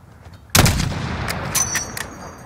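A single loud rifle shot cracks out sharply at a distant target in the Modern Warfare game, followed by a long rumbling echo that tails away, with thinner tonal game sounds rising later.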